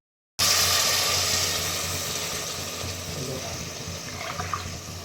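Water poured from a masala grinder jar into a pot of chicken biryani, a steady close splashing stream that slowly tapers across the clip.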